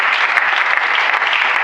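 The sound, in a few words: congregation applauding and acclaiming the Lord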